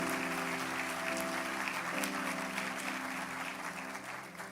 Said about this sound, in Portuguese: Dê uma forte salva de palmas a Jesus.